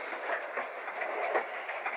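Freight train running on rails, a continuous rolling roar with faint rhythmic clatter of wheels, steady and fairly close, with no voices.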